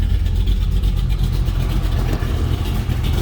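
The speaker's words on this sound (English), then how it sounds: "And there you can hear the exhaust note change." Exhaust of a 1967 Chevrolet Chevelle Malibu V8 with the cutouts opened, a loud, close, rough low rumble that holds steady at idle without any talking.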